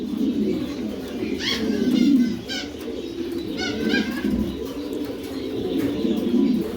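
Ranks pigeons for sale, including a male, coo in repeated throaty bursts close by. Soft flutters and low background noise fill the gaps between calls, and no one speaks.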